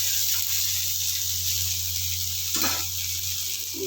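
Vegetable peels fry in a pan with green chilies, giving a steady close sizzle with a brief stirring scrape near the end.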